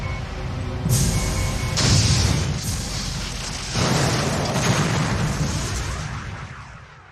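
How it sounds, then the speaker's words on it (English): Enemy ship weapons striking a starship in the video game Star Trek: Borg after its shields fail, heavy booming blasts in several swelling waves with a rumbling low end, alone without voices. "Shields are gone. They're firing."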